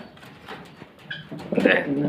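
Pet pigeons coo in a brief, close, low call that swells toward the end, with a voice faintly underneath.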